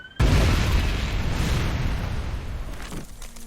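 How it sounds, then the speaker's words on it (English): A bomb goes off in the point-and-click adventure game Broken Sword 1: The Shadow of the Templars, Director's Cut, as a sudden loud boom that rolls into a long, dense rumbling decay lasting a few seconds. "A bomb!"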